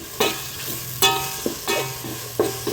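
Chopped vegetables tossed into a hot pan with tomato for a plain veg salna, stirred in several separate scrapes and clatters over a steady low sizzle, close by with no talking.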